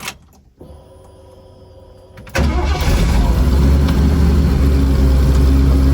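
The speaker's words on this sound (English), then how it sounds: "So now I'm gonna take it for a little test drive and see how things go." A car fitted with a Hydroboost brake booster cranks and starts after a quiet stretch, then settles into a loud, steady engine rumble close by.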